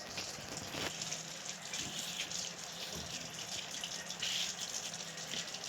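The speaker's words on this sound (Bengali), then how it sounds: "আমরা পানি দিয়ে সুন্দর করে খাবারটাকে মাখিয়ে নেব" Water poured and mixed by hand into duck feed, a continuous close splashing and gushing with soft wet squelches, no talking.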